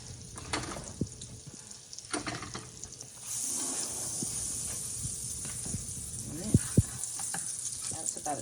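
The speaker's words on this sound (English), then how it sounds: "melt the butter" Butter melting in a hot pan for an egg sandwich, a soft steady sizzle and hiss running throughout, with occasional clinks and faint voices in the background.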